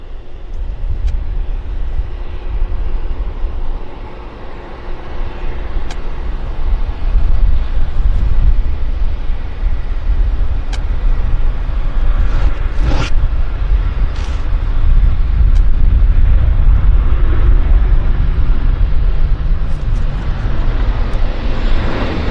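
An Embraer airliner on approach to Vancouver airport sends a broad, steady jet roar that builds and stays loud at a distance, with some wind buffeting on the microphone and no talking.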